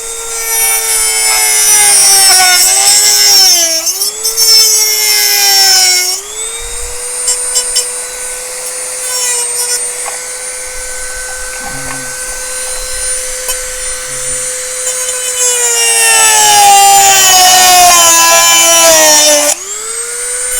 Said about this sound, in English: just with a Dremel tool, little cut off bit in it, little cut off blade, nothing special.